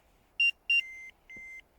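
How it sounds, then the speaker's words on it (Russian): A car remote key fob gives a few short electronic beeps, two quick high chirps and then two longer tones, out in a forest, fairly faint against a quiet background. "вот пульт пищит"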